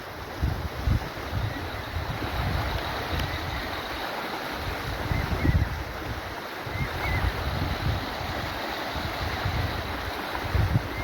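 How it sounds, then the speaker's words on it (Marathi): A river swollen after heavy monsoon rain rushing past in a steady, loud broadband roar, with gusts of wind buffeting the microphone and no voices. "इतका मोठं पाणी आलंय की तुम्ही बघू शकता हे नदी फुल भरून वाहत आहे"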